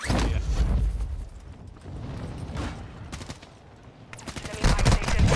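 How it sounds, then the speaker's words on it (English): Gunfire from a Warzone match, with sharp shots and rapid bursts cracking in irregular clusters. Several loud volleys come close together near the end. "I'm getting shot up."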